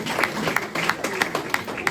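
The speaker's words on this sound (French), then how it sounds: "Applaudissez." Guests at an engagement party clap in a quick, fairly regular rhythm, a small group heard close and moderately loud.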